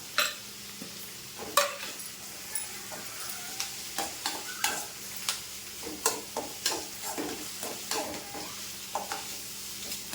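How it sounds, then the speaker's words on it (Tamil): Curry leaves and coriander are stirred into frying tomato in a pan for ridge gourd chutney, making a soft sizzle under a steady run of sharp spatula scrapes and taps, close and with no talking. "இப்போ இந்த கருவேப்பிலை கொத்தமல்லியும் போட்டுக்கலாம்"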